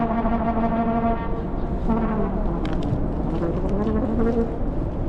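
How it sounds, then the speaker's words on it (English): A trumpet plays sustained, wavering tones beneath a large highway bridge, loud and close with a reverberant, horn-like quality and a rumbling traffic or wind background. "There's a dude playing the trumpet down there."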